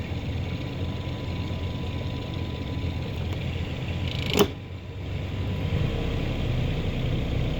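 An engine aboard a sailing catamaran runs steadily with a low continuous drone and hum, broken by a single sharp click or knock midway, with no speech.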